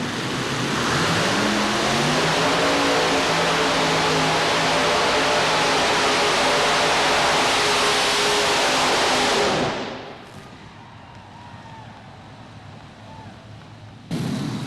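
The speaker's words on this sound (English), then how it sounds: "here we come to the starting line right now with Tim Engler and Mission Impossible 6 Chevrolet engine" A Chevrolet-engined pulling vehicle called Mission Impossible 6 roars loud and close at the starting line of a 1990 National Farm Machinery Show pull for about ten seconds, then drops to a quiet idle before a final burst.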